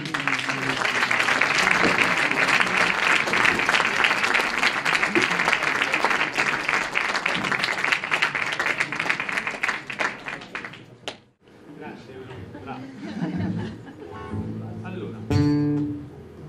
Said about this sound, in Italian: accogliamo con un applauso Mauro e Roberto Spinelli